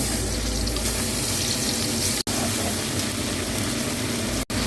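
Prawns fry in hot oil in a heated pan, a loud, dense, continuous sizzle broken by two very brief gaps, with no talk.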